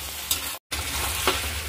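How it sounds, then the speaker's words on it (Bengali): Slit green chillies and capsicum fry in a pan for chilli chicken, giving a close, even sizzle with a couple of light stirring scrapes and a brief dropout partway through. "চিড়ে রাখা লঙ্কাটা এর মধ্যে দিয়ে দিলাম, দিয়ে আবার খানিকক্ষণ ভেজে নেব"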